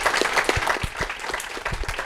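A crowd at a blockchain community event applauds, close dense clapping that holds steady throughout the short burst.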